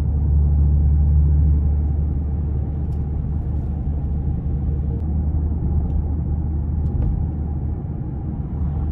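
Steady low engine rumble and road drone inside a 2017 Maserati Ghibli SQ4 running on cruise control, fairly quiet and even throughout with no talking.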